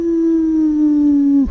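A voice imitates a long, steady, loud howl during a Rise of the Runelords tabletop session, holding one pitch before dropping into a short rough growl at the end.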